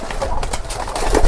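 Kept pigeons, including Farozpuri, Imamdin and Kamagar breeds, coo softly in a loft, with soft rhythmic throaty calls repeating close by over a steady background murmur.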